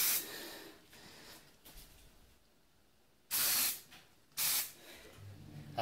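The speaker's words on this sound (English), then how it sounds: "we just spray right across the top" Two loud, sharp bursts of aerosol spray hiss close by, each lasting about a second, separated by quieter rustling.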